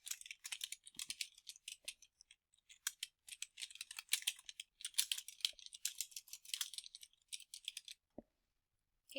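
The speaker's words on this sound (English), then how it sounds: "So I'll go ahead and type out everything that's needed here." Rapid clacking of keys on a computer keyboard, close and fairly quiet, in irregular bursts with short pauses and no talking.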